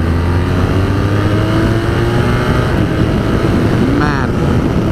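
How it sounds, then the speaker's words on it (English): A 2019 BMW R1250RS with its ShiftCam boxer engine under way, giving a steady loud drone with rising rev tones, heavily mixed with constant wind rush at riding speed. "You'd never guess this is a boxer engine anymore."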